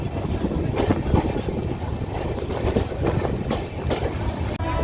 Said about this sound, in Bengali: একটা ট্রেন ঢুকছে ডাউনে, লালগোলা শিয়ালদা ঢুকছে নৈহাটি